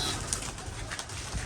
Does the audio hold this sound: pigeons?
yes